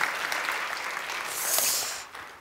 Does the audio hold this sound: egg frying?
no